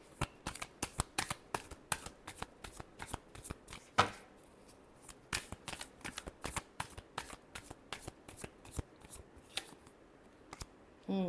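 Tarot cards being shuffled by hand in a rapid run of crisp riffling flicks, close and clear, with one sharper slap partway through before the steady flutter resumes.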